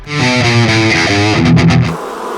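Distorted electric guitar through an amp modeling pedal, giving a harsh, buzzy fizz as a few loud chords are struck in quick succession and then cut off.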